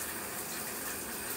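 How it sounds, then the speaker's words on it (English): A shower running during a hair wash day, a steady broadband hiss of spraying water, close and continuous with no voices over it. "y'all hear the shower running because I wash my hair in the shower"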